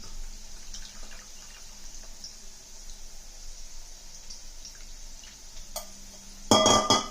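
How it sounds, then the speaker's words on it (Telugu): Tamarind juice poured into a pot of softly cooked bottle gourd stew, a low steady liquid trickle with faint drips that ends in a brief louder splash. "దీనిలో మనము చింతపండు రసం పోసేద్దాం"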